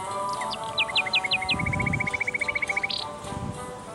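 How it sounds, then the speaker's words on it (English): A sparrow chirps in a video game, a run of quick bright chirps followed by a fast rattling trill, over a steady game background. "My seeds attracted a sparrow"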